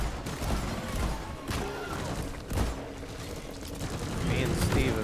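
Turret gunfire in the video game Deep Rock Galactic, a rapid, loud, continuous rattle of shots with heavier thumps, under players' voices talking over it.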